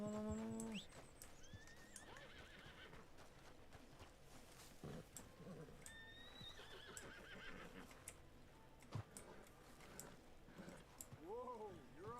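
A horse in Red Dead Redemption 2 gives a loud, near neigh at the start, with softer whinnies and snorts later, over game ambience and background music while a person talks.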